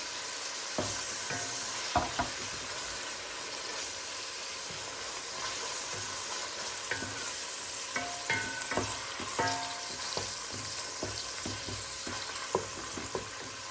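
Tomato paste simmering and being stirred in a pan with sautéed beef skin and onions, a soft steady sizzle and hiss under scattered spoon clinks and scrapes, fairly quiet and close.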